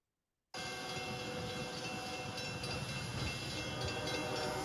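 Freight train passing the Blue Island crossing, a steady loud rumble of rail noise that starts abruptly and holds for several seconds, with a sustained horn-like tone running through it in the background.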